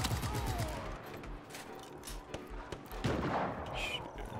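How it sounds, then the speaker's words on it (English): Gunfire in the video game Just Cause 3 rattles in dense repeated bursts over a busy game soundscape at moderate loudness, with no speech in the moment. "Let's just gun them all down."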